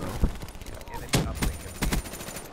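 Black Ops 3 gameplay with the FFAR rifle: rapid automatic gunfire in short bursts of sharp cracks, close and loud. A voice talks over the shooting.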